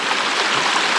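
Rainwater runs as a stream down a wet hiking trail in Killarney Provincial Park, a close, steady rushing and gurgling wash of water with no voices.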